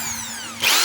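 A Stanley SDH600 half-inch hammer drill in drill mode: a steady high motor whine close by, rising into a louder, rougher burst near the end, heard alone without voices.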